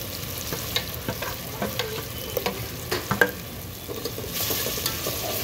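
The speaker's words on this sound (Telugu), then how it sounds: "అల్లం పేస్ట్ కూడా వేసుకొని పచ్చి వాసన పోయే వరకు కొద్దిగా ఫ్రై చేసుకున్నాం." Ginger garlic paste sizzles in hot oil for mutton pulao, a steady crackling fry broken by repeated scraping stirs of a spoon in the pan, with no one speaking.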